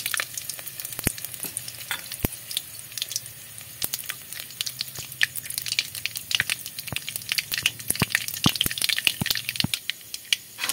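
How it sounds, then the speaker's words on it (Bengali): Mustard seeds and two dried red chillies sizzle and crackle in hot mustard oil, with a steady fizzing bed broken by frequent sharp pops and spits throughout. "তেলটা গরম হয়ে গেছে। দিয়ে দিচ্ছি সর্ষে, দুটো শুকনো লঙ্কা,"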